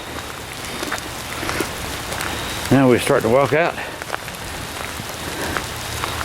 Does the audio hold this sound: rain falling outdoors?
yes